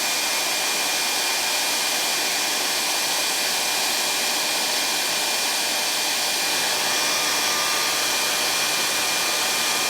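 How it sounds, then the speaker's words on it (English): A blow dryer roars steadily and loudly while warming a nitro RC engine, a continuous close airy whoosh with no break for the full stretch. "it's just so much easier to use a blow dryer"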